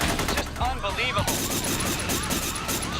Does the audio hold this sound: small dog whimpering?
no